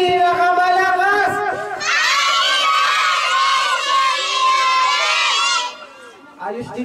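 A group of children shouting together loudly at a first birthday party, one long sustained collective yell with an adult voice heard before it and crowd noise around it.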